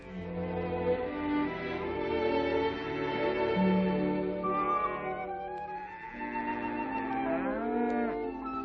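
Cattle on a small island farm low repeatedly, a series of long, loud, close moos following one another across the whole stretch with no talking.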